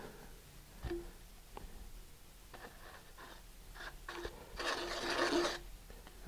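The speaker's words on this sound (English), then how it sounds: "So keep it rotating and put it in there and then just start smearing it around." Glue is smeared inside a model rocket tube with a rotating wooden dowel, producing faint intermittent scraping and rasping with a few soft taps, building to a longer, louder rub near the end, close and quiet.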